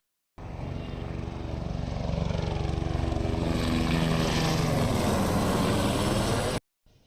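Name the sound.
helicopter flying overhead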